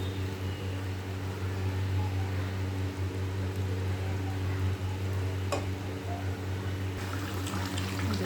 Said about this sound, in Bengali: এবার ঝোলটা ফুটতে থাকুক। এটা ফুটে উঠেছে